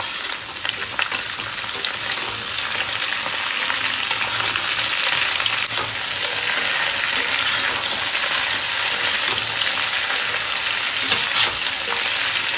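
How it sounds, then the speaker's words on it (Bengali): Vegetables with pumpkin and ridge gourd sizzling steadily in a hot pan over a high gas flame, with stirring scrapes throughout, close and continuous with no talk. "গ্যাসটাকে একটু জোরে দিয়ে এগুলো ভেজে নিচ্ছি আমি।"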